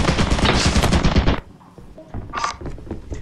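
Rapid automatic turret gunfire from the video game Lethal Company, a loud dense burst of shots lasting over a second, followed by quieter scattered sounds and a brief renewed rattle.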